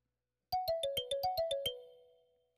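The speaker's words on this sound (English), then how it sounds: "Just the kalimba." Kalimba patch on a Roland Fantom synthesizer picks out a quick run of nine bright plucked notes, evenly spaced with crisp attacks, then the final tone rings and decays for about a second.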